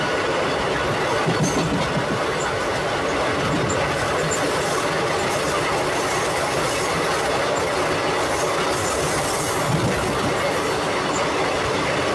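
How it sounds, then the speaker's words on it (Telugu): Lingampalli–Visakhapatnam Janmabhoomi Superfast train running through Ramannapet railway station, a loud continuous roar of wheels and carriages with rhythmic clatter and occasional squeal, close by and steady throughout. "రామన్నపేట రైల్వే స్టేషన్లో మనకి ఇంకొక రాశి లింగంపల్లి విశాఖపట్నం జన్మభూమి సూపర్ ఫాస్ట్."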